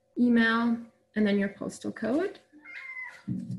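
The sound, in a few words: cat meowing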